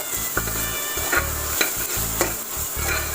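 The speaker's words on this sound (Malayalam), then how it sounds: "നമുക്ക് നല്ല രീതിക്ക് ഇത് മിക്സ് ആക്കി കൊടുക്കാം ഇതൊരു രണ്ട് മൂന്ന് മിനിറ്റ് ഇങ്ങനെ അപ്പോഴേക്കും ഫ്രൈ ആയിക്കോളും" Chicken for Afghani biryani frying in ghee, stirred in rhythmic repeated scraping strokes against the pan over a constant loud sizzle, close and with no voices.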